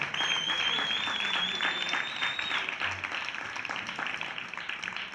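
Applause from an audience at a live band's concert, dense steady clapping that fills the room and slowly thins toward the end, with no voices over it.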